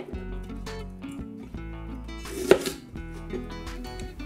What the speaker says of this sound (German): Genauso wie die Zwiebel. Wird nur in grobe Spalten geschnitten.